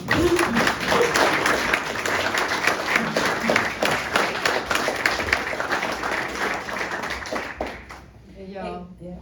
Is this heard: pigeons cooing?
no